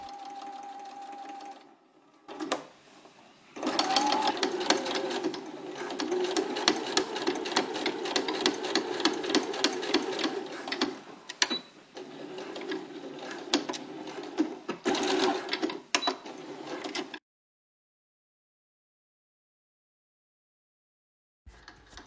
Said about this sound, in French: On vient coudre à 1 cm du bord en s'arrêtant au niveau du cran du zip.